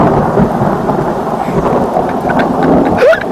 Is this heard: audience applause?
no